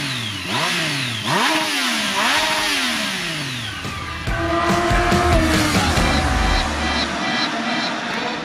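A 2017 Triumph Street Triple 765 RS three-cylinder motorcycle engine revs up and down through gears while riding, loud and close, with a steady whine and wind noise underneath.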